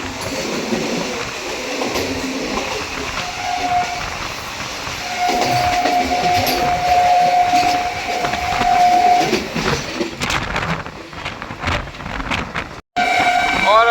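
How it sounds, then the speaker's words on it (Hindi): A passenger train runs past Etawah Junction without stopping, a continuous rolling rumble and rattle of wagons that swells toward the end, with a drawn-out tonal whistle or horn note sounding midway. "और अपनी ट्रेन स्किप कर रही है इटावा जंक्शन को।"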